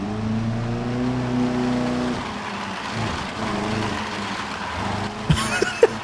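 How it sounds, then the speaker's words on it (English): Loose car parts grinding and scraping along the ground in BeamNG Drive, a continuous harsh rasp over a droning engine hum, ending with a few sharp clanks and knocks. "now we have like scraping sound effects so that when the stuff is falling off your car and scraping the ground, you actually hear that"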